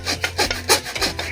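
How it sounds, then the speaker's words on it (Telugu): A hand saw cuts a notch into a piece of wood for a rat trap, giving rapid back-and-forth rasping strokes, about six in quick succession, close and clear with no talking. "మనం అయితే రంపంతో అయితే గెనుపు కాడ అయితే కోసుకుంటున్నాము."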